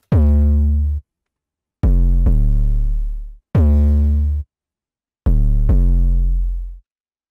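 A remixed Minecraft beat built on a thick 808 bass: four loud, booming sustained notes, each ringing about a second before cutting off, separated by short silences, with no voices.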